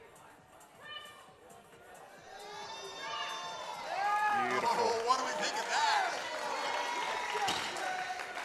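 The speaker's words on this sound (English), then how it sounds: "Big crowd noise behind us there for him" A crowd at a powerlifting nationals bench press event swells into cheering and shouting, rising midway and holding loud, with a commentator talking over it.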